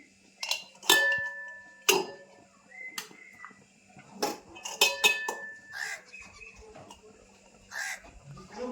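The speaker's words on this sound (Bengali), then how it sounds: "ডাল আর চাল সিদ্ধ করে এই হয়েছে আমি কিছুটা দিয়ে দেবো চামচে করে দিয়ে দিচ্ছি" A spoon scoops boiled rice and lentils into a cooking pot for fish-head biryani, giving a scattered series of soft clinks and scrapes against metal, quiet and close, with pauses between.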